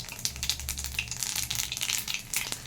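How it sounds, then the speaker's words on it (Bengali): Black cumin seeds spit and crackle in hot oil in a wok, a close, busy sizzle with sharp popping bursts throughout and a low stirring rumble underneath. "কিছুটা কালো জিরে দিয়ে দিচ্ছি ফোড়ন"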